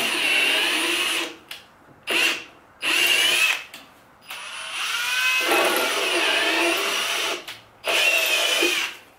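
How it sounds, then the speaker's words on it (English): Small tap tool driven by a power drill, cutting threads into thin metal: repeated whining bursts of drilling that start and stop, with one longer run in the middle, close and fairly loud. "Now I'm gonna use that small tap tool. And that'll actually put the threads in here."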